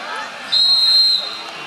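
Referees' whistle at a sabot match, a single sustained shrill blast of about two-thirds of a second over steady crowd hubbub.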